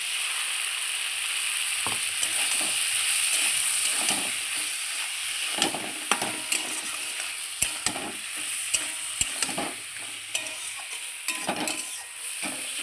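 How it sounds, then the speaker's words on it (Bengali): A mixed vegetable curry sizzles in a pan with a paste of green chili, ginger and cumin, a constant frying hiss broken by sharp scrapes and clinks as a spoon stirs repeatedly. "আবারও আমি একটু সুন্দর একটু নাড়চাড় করে নিলাম মশলাটা দিয়ে"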